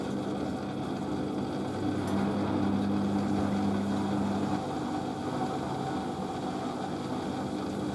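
A Merloni Electra WD1100 washer dryer drains with no spin, its pump giving a steady low hum and whir with water flow, constant and moderately loud throughout.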